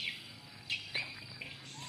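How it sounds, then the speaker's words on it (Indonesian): Swiftlets chirp inside a swiftlet nesting house, with several faint, high twittering calls and sharp chirps scattered over a steady hissing background. "Mulai nyarang burung."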